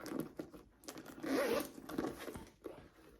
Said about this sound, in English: And then we have a double zipper pull on top.